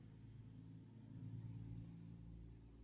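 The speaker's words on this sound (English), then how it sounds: "There's a car that went by." A car drives past outdoors as a quiet, low engine rumble that swells gently in the middle and fades again, distant and steady with no voices.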